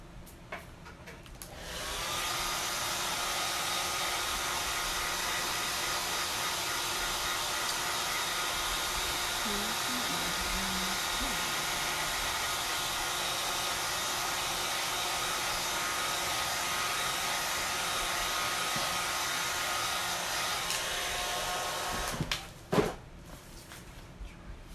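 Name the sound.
hair dryer blowing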